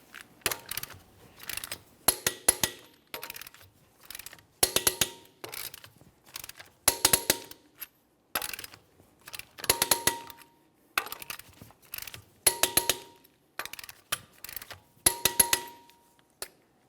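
Clicking of a torque wrench tightening the rear wheel lug nuts on a 2017-2024 GMC Acadia to 140 foot-pounds in a crisscross pattern, sharp metallic clicks in repeated close bursts with short pauses between nuts.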